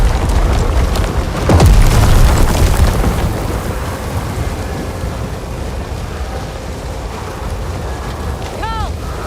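Thunderstorm with heavy rain in the Star Wars Jedi Survivor video game: dense, loud rain hiss throughout, with a deep rumbling thunder boom early on, and a faint tonal chirp near the end.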